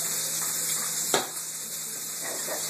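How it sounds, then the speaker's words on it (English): Bacon frying in a pan while twice baked potatoes are being made, giving a steady, close crackling sizzle with one brief sharper pop partway through and no voices. "Oh, you hear that? Look at that sizzling."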